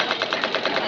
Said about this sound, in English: I rushed to the bridge, manned the machine gun, and began firing at the enemy aircraft.